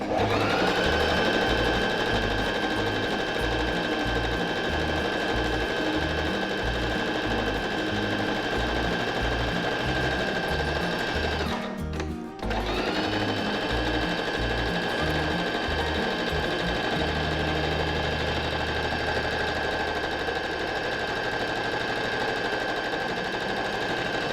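A PFAFF SMARTER 140 S sewing machine runs a zigzag stitch at width 6 and tension 3, a steady, rhythmic mechanical whir and clatter with a brief stop midway before it resumes at the same pace.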